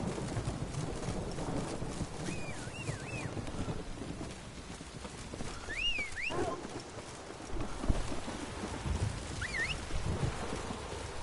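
Roach the horse gallops in The Witcher video game, with a rhythmic hoof clatter under rain and wind ambience and a few whistling chirps.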